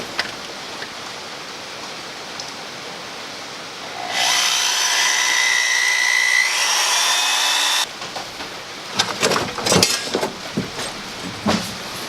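A steady high whine of a drill boring a hole for a fill plug runs for several seconds, then stops abruptly, followed by scattered clicks and clattering.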